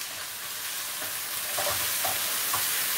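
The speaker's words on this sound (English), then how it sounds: "ginger garlic paste. We're going to add about a teaspoon and a half of that." Ginger garlic paste frying in a pan for an adrak curry, a steady close hiss and sizzle with a few soft stirring scrapes, no voices.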